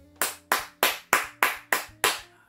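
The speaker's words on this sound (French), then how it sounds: "Ça s'applaudit, les gars." Seven slow, evenly spaced claps, sharp and close with a short ring after each, during a commentary stream of France's Euro qualifier against the Netherlands.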